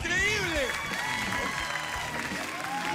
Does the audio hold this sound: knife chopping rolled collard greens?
no